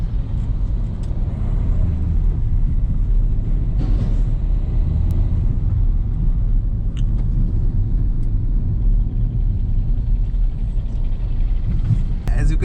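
Renault Lodgy MPV driving through light traffic, with a steady low road and engine rumble that holds loud and even throughout and a few faint passing sounds above it.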